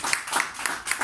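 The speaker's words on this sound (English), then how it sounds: "it requires a good clap from you." Audience at a lecture clapping in brief, fairly close bursts of handclaps, loud and uneven over about a second.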